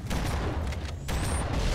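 Rapid gunfire in the Halo CE video game rattles on without a break for nearly two seconds, loud and dense, with sharper shot bursts standing out from a constant roar of combat noise.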